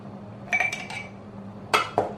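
Hot tomato-sauce pepper pickle stirred with a metal utensil in a pot, a few clinking scrapes and knocks in two short clusters over quiet kitchen hum.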